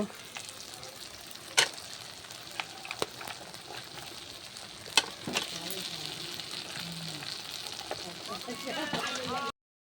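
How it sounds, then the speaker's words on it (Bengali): Chili chicken masala fries in a pan with a steady, close sizzle, broken by a few sharp clanks and scrapes as it is stirred, and a soft voice can be heard briefly. "এটা কিছুক্ষণ কষিয়ে নেব।"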